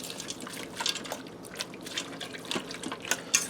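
Crumbled oven-crisped bacon strips being stirred into chicken in an Instant Pot, giving close, steady wet clicks and scrapes of a utensil against the pot with no talking.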